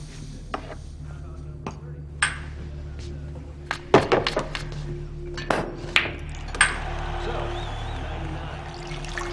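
At a bar, two shots of Scotch are poured, with faint glass clinks, knocks and a brief trickle of liquid amid quiet room tone and low background voices.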